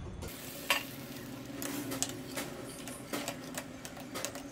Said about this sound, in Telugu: ఇప్పుడు ఇందులోనే డ్రై ఫ్రూట్స్ వేసేస్తాను.